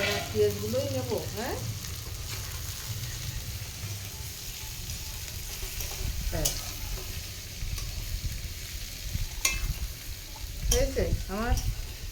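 Green chillies sizzling and frying in hot oil for a home-style prawn biryani, a steady crackling hiss with occasional stirring scrapes, moderately loud and continuous.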